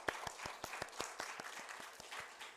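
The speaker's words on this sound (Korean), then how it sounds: "그래서 박수, 우리 큰 박수 한번 드리겠습니다." A small congregation at a Wednesday church prayer meeting claps in a steady, evenly spaced rhythm, with sharp distinct hand claps sounding close and fairly sparse rather than a dense roar.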